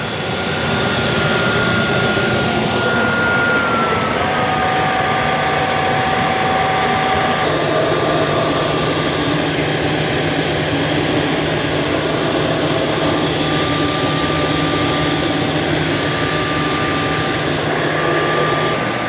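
A Tineco Floor ONE Stretch S6 wet-dry vacuum runs its self-cleaning cycle in the dock, brush roller spinning: a steady, loud whirring motor drone with a thin high whine, unbroken from start to finish.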